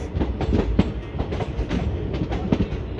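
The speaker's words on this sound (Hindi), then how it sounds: "और ये इस ट्रेन की जनरल क्लासेस आश्रम मंडोर एक्सप्रेस।" Ashram Mandore Express, the 22421 Delhi to Jodhpur superfast passenger train, running on rails with a steady rumble and repeating clickety-clack of wheels over joints, heard continuously from close by.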